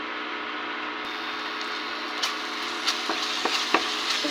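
Chicken with chopped chili and salt is stirred in a hot pan, a continuous sizzle broken by several sharp scraping clinks of the spoon toward the end, close and without talk.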